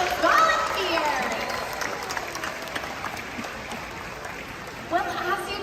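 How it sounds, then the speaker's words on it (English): Broad, steady clapping from an audience at a killer whale show at SeaWorld Orlando fills the space, with a burst of whistles or cheering near the start and a brief flourish near the end. "How about a round of applause for Katina, Nalani, Malia, and our audience"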